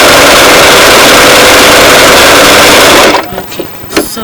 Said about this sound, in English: put it under the presser foot, and then release, put this thing on,